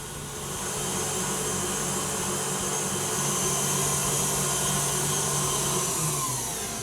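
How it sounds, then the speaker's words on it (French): Electric mixer whisking Italian meringue in a bowl, a steady continuous motor whir with high-pitched hum that holds evenly throughout, with no talking. "J'arrête donc le batteur."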